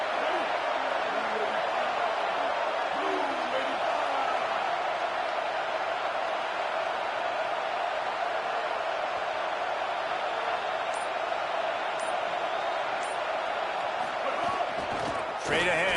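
A college football stadium crowd between Oregon and Texas A&M roars continuously in a dense, loud wash, with an announcer talking over it throughout.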